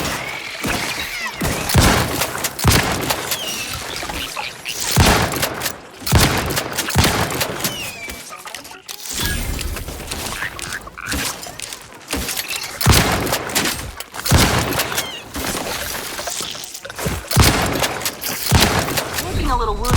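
Grenade explosions and gunfire in the video game The Outer Worlds 2 come as repeated loud booms and bursts of shots with short gaps between them. The noise is dense and continuous, with a voice talking faintly at points.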